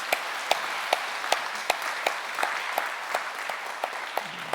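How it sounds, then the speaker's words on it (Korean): Church congregation at a Sunday worship service applauding in a sustained, even roar of clapping, with a few sharper individual claps standing out at regular intervals. "우리 박수 한번 치십시오."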